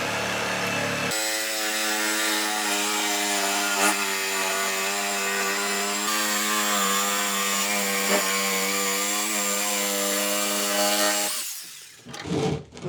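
A power saw cuts freehand along the edge of a wood slab in one loud, continuous whining drone with steady harmonics, stopping abruptly near the end.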